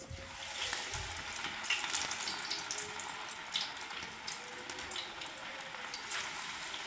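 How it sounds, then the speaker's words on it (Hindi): Pakoras frying in very hot oil give a steady, fine crackling sizzle that stays faint and even throughout, with no talking. "तो अब जी मैं डालना शुरू करूँगी इसमें पकोड़े।"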